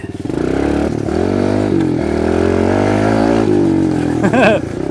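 A Kawasaki KLX 110R clutchless four-stroke dirt bike revs close by, its engine note holding a steady, rising drone with a sharper throttle blip near the end.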